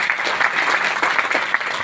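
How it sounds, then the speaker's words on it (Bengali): Audience applause at a talk, a dense, steady patter of many hands clapping at even loudness for a brief stretch, with no talk over it. "একবার আপনাদের সকলের জন্য একবার জোরদার হাততালি হয়ে যাক"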